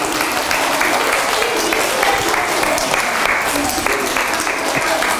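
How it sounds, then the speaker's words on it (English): A school audience at an education talk gives a loud, sustained round of applause. The clapping is dense and continuous from start to finish, with faint voices beneath it. "A big round of applause."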